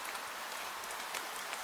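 Gentle rain falls steadily over stone streets and a canal in Venice at night, a soft, even hiss of drops with no voices.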